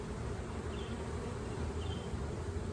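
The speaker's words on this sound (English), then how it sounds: "it's the first time I've been stung by a bee in this hive." Honey bees in a hive, with a dense, steady buzzing drone that fills the whole stretch at moderate loudness and has no talk over it.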